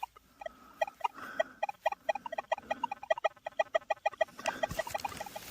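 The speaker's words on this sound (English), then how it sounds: "they're chirping like mad underneath them pylons here" Birds chirping rapidly and continuously beneath power pylons out in a field, close and busy, a dense stream of short repeated calls.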